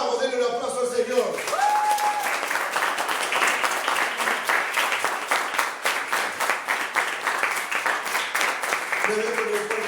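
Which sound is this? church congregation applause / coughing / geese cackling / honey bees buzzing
church congregation applause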